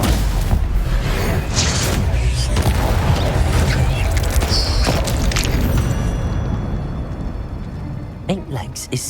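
Confringo fire spell explosions in the wizarding game Hogwarts Legacy, heavy booming blasts and crackling bursts piling up in a loud, chaotic fight, with a voice shouting over the din.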